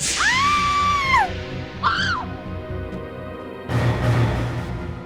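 A woman screams in a Hindi CID police TV drama about a headless ghost attack, two sharp wavering shrieks over a low music bed, followed by a loud crashing hit.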